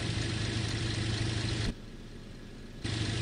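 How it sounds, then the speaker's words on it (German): Simulated bus engine in the OMSI 2 driving game, a steady low idling drone that drops quieter for about a second mid-clip before returning to full level. "Ich schmeiße schon mal den Motor an."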